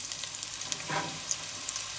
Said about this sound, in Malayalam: ഈ ഒലിവ് ഓയിലിൽ ഇതൊന്ന് സോട്ടേ ചെയ്യുക.